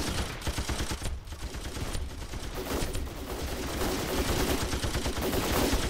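Dense gunfire in a Ravenfield video game battle, continuous overlapping rifle and machine-gun bursts, loud and close, with constant sustained shooting throughout.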